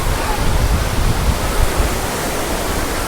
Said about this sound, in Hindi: ये है मेन पार्ट के टाइगर पॉइंट वाटरफॉल, जो कि काफ़ी खूबसूरत है